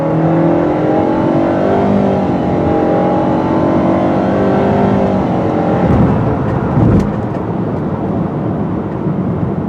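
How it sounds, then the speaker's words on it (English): A 2017 Nissan Rogue SL AWD with a CVT accelerates in sport mode, its engine droning loudly and rising in pitch for several seconds before easing off, with a few light knocks near the end. "if you're in a hurry and want decent acceleration, you need to use that sport mode button"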